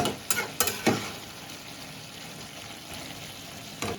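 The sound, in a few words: stirring bean (shim) curry in a pan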